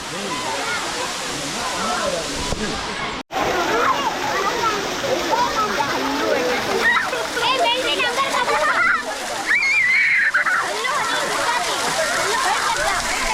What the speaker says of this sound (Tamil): ஸோ இது ஃபுல்லாகவே வந்து வாட்டர் ஃபால்ஸ் தான்.